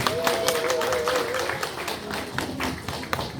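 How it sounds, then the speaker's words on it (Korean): An audience claps after a Gyeonggi folk song performance by a singing troupe, a dense, steady patter that lasts throughout. A sustained tone sounds briefly near the start and voices murmur underneath. "큰 박수 부탁드리겠습니다."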